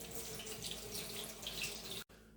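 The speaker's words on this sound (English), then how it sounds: "And I'm gonna rinse my hands off again." A kitchen tap runs steadily as hands are rinsed beneath it, a close hissing splash that cuts off abruptly near the end before quieter flow resumes.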